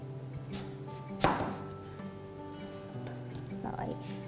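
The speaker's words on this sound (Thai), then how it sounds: "ถ้าเกิดแอปเปิลกรอบมันก็จะ หั่นยากนิดนึงนะคะ" A single sharp crunching cut near the start, like a knife biting through a crisp apple, with soft background noise and a little quiet talk later.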